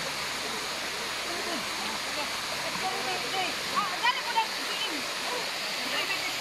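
Can-Umantad Falls in Candijay, Bohol, roars as a constant broad rush of falling water close by, with faint voices and small splashes over it.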